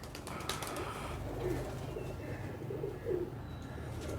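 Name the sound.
high flyer pigeons cooing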